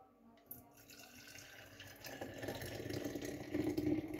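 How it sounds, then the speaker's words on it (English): Hot coffee poured into a cup, a steady liquid stream that builds in loudness and rises in pitch as the cup fills, heard close up with no talking. "I'm going to pour the rest of this coffee in here to keep it hot."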